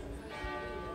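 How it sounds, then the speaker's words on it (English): Clock tower bells chiming six o'clock in Cambridge, a faint distant ringing tone with lingering resonance heard outdoors amid low ambient background noise. "the 6 o'clock chimes of the clock thing"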